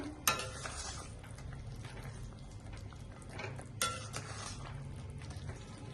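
Veg manchurian balls are stirred into simmering sauce in a pan, with a soft bubbling sizzle under repeated scraping and two sharper clinks of a spoon against metal, close and with no talking.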